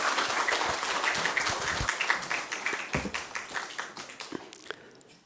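A crowd applauds in a church during a Sunday service, dense clapping that gradually thins and fades toward the end.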